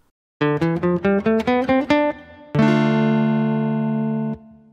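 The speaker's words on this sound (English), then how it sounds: "Starting on a D instead of C, and you're now playing in D Dorian." A bright synth tone steps quickly up a D Dorian scale note by note, then holds a long sustained chord that fades out; no voices.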